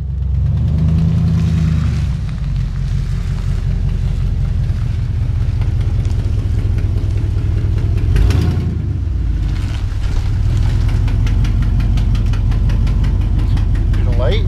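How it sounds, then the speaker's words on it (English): A truck does a burnout with both rear wheels spinning, a loud, steady engine roar holding throughout with a brief surge partway, and voices shouting in the background. "That's the first time I've ever done a burnout in my life."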